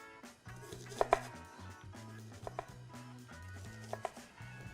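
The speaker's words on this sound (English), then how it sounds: "against the grain of the onion, against these nice guidelines to create half moons" A 9-inch chef knife slices an onion into thin half moons, giving steady knife taps on the board with a few sharper cuts, close and clear with no talking.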